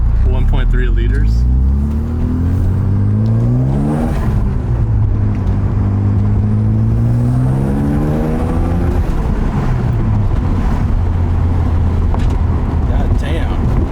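A stock 1.3-litre boosted rotary car engine revs repeatedly, pitch sweeping up and down with turbo whoosh, loud and close from inside the car while people talk over it.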